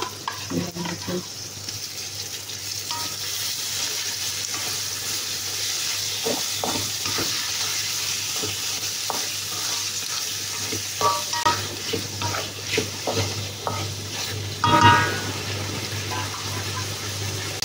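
Squid roe fries in hot oily sambal with a steady, close sizzle while a utensil stirs and scrapes through it in irregular strokes, with no talking.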